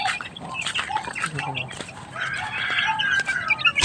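Small backyard chicks and hens cluck and chirp close by in repeated short calls, with a person talking quietly among them.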